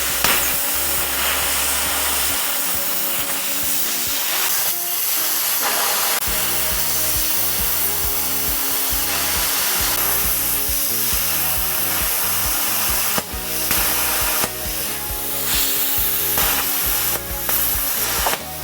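A bestarc CUT35A plasma cutter set to 35 amps with 40 PSI air cuts through 1/4 inch metal, giving a loud, steady roaring hiss over a droning hum that continues for the whole stretch, with brief surges near the end.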